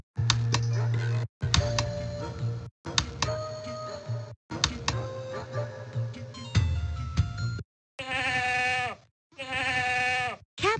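A video-game goat bleats in short repeated cries, separated by brief silences, clear and close, with a few chime-like tones mixed in.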